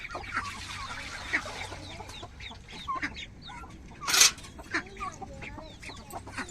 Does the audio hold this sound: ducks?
yes